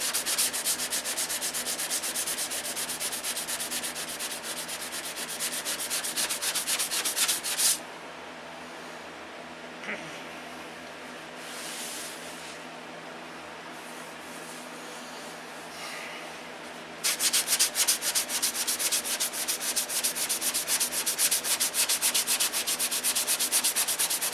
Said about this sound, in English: Sanding on wood now, so it's easy to push on.